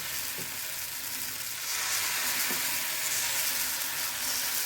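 Dosa batter sizzles steadily on a hot pan greased with a single drop of oil, a broad continuous hiss that swells slightly partway through, with a couple of faint clinks and no voices.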